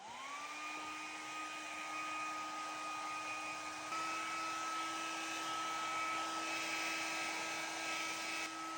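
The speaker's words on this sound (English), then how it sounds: "I'm just gonna blow dry it just to get rid of the foam" A hair dryer whirs steadily with a high motor whine while blow-drying freshly installed knotless braids to clear away the foam from mousse. Its pitch rises slightly partway through, and it runs close and alone with no talking.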